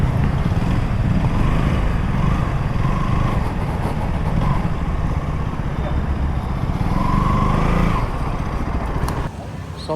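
Motorcycle engines idle and rev at a busy KTM service center, a steady overlapping drone of several bikes close by, with a dip in level near the end.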